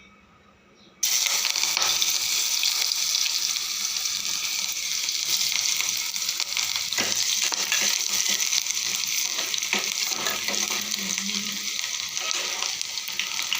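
Chopped onion fries in oil in a deep pot with a steady, loud hiss that starts abruptly after a short quiet moment and holds, with faint stirring scrapes underneath.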